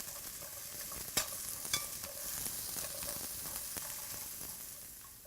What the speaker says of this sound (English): we'll just put in the carrots and let them gently saute for just a couple minutes